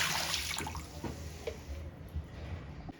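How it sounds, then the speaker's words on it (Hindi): Water poured into a cooking pot holding a mutton raan leg with garlic, a steady splashing, running pour heard up close with faint drips and no talking. "ये मैं पानी इसमें और डाल रहा हूँ"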